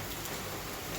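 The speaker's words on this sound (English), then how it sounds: "it's raining." Steady rain falls in Bali, a dense even hiss of drops pattering on surfaces, continuous and fairly close with no voices.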